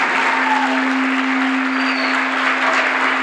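Steady, dense applause from an audience at a cultural event, continuous and even throughout with a constant low hum underneath and no voices.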